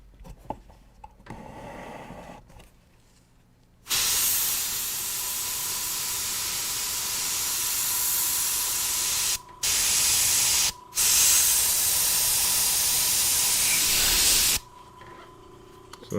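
Spray paint hisses from a can held close and tight to lay down painted clouds, in long sustained bursts broken by two brief pauses, loud and near, with quieter room sound before and after.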